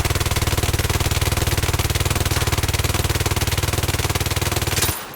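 Sustained full-auto gunfire from a weapon in the video game Zero Caliber: a loud, rapid, evenly spaced stream of shots lasting about five seconds, then stopping abruptly, with no talking over it.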